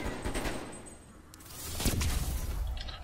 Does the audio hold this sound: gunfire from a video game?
yes